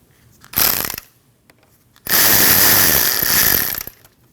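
A ratchet wrench loosens a hose clamp beside the radiator petcock on a 2013–2019 Ford Escape 1.5L: a short burst of clicking, a pause, then a longer loud, close run of rapid ratcheting.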